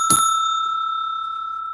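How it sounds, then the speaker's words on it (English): A single bell is struck once during a tarot card reading, giving a bright ding whose clear ringing tone hangs and slowly fades over nearly two seconds, alone with no talking. "Oh, you need the bell for that."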